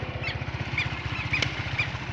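A Titan motorcycle engine idles nearby with a low, steady, pulsing thrum, and faint high chirps drift over it.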